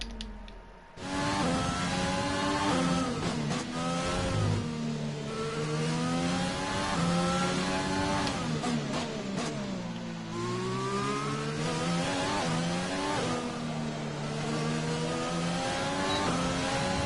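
A Formula 1 car in the F1 2020 racing game, practice at the Australian circuit, its high-pitched engine screaming continuously, revs climbing and dropping through repeated gear shifts and corners, loud and close throughout.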